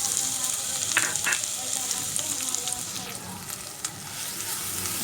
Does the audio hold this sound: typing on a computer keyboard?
no